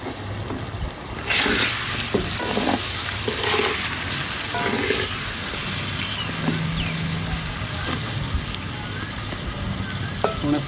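Chicken with salt and chili frying in a pot as tomatoes go in for Karachi biryani, a steady close sizzle with scattered stirring clatters and splashy bursts, no talking.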